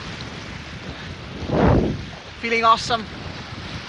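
Wind and ocean surf at Sunset Beach in Bhuj, Gujarat, a steady windy rush with one swelling gust, then someone speaks briefly over it.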